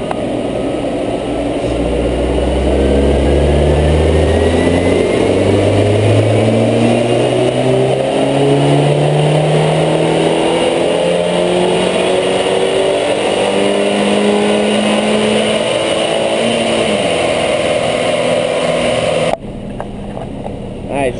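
An Audi A4 2.0T FSI with a K04 turbo and stage 1 tune revs hard through a dyno pull, a loud, sustained engine note climbing steadily in pitch across the gears before cutting off abruptly near the end.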